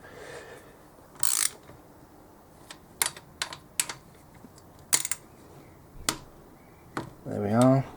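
Torque wrench tightening cylinder head bolts on a pit bike engine, a series of sharp separate clicks and ratchet snaps spaced irregularly, with a longer rattling burst at the end and faint talk in the background.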